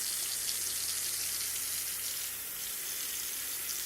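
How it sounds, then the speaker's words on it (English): Water pours steadily into a Pyrex oven tray to set up a bain-marie for crème caramel, giving a continuous bright splashing hiss close by. The pour runs without a break and no one talks. "We're gonna fill it with some water"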